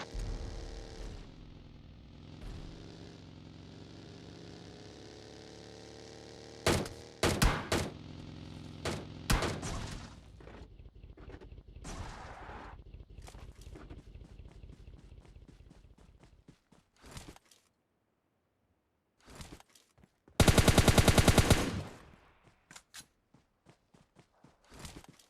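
Gunfire in PUBG Mobile Lite, scattered sharp shots and short bursts that ring out loudly over quiet footsteps, ending in a long loud volley.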